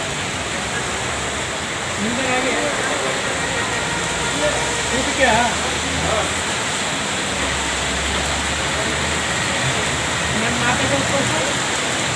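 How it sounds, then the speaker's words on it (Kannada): Rain falls steadily outdoors in hot weather, a dense continuous hiss that holds evenly throughout with no clear voices. "ನೋಡಿ ಹೇಳ್ತಿದ್ದಂಗೆ ಮಳೆಯ ಮುನ್ಸೂಚನೆ ಬಂತು"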